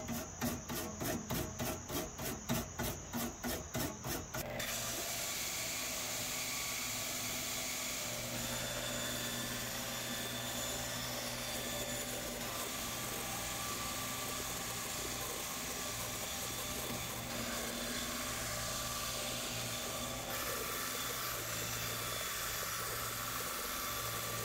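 A power saw cuts padauk, an exotic hardwood, with a blade gummed up from earlier cuts. A few seconds of rapid rhythmic rasping give way to a steady, loud whirring roar over a low hum, with no talk.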